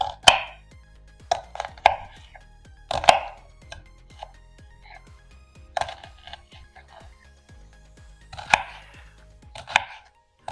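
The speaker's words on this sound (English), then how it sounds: "spend my time cutting up these onions and carrots and celery" Knife chopping onions, carrots and celery on a cutting board, a run of sharp, irregular chops in clustered bursts with quiet gaps between, close and clear with no voices.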